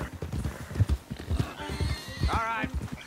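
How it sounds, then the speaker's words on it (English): Horses in the video game Red Dead Redemption 2 clop along in a steady hoof rhythm, with a loud whinny near the end, mixed with a voice in the game. "Don't want the horses clopping around outside the window."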